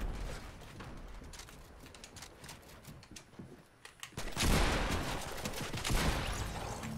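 Shotgun fire in Fortnite, a burst of rapid gunfire crackling over game noise, with a louder stretch of shots midway, no talking.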